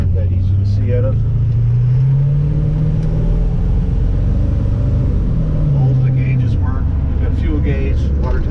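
A 1934 Chevrolet Cabriolet fitted with a 350 engine drives along with a steady, loud low engine drone that rises and falls as it accelerates, under continuous talk from inside the car.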